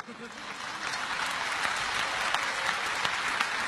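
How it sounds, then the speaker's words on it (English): Audience applause at a lecture on religion, a steady wash of many hands clapping that swells and holds, with a speaker's voice running over it. "you're clapping. I like it."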